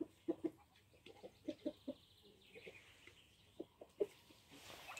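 Chickens cluck softly in short bursts and pairs, fairly close, with quiet pauses between calls and faint background noise.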